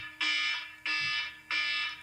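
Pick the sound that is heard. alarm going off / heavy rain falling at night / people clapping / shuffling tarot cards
alarm going off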